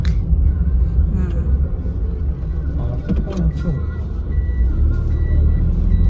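A car engine idles with a low steady rumble, with faint reversing beeps and people talking over it throughout.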